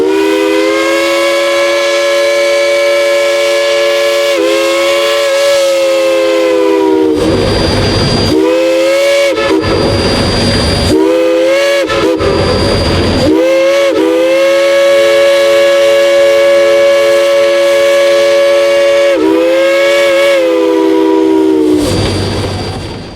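A Cass Scenic Railroad Shay steam locomotive sounds its whistle in long, loud, close blasts, a few short breaks between them, over a low rumble of the train.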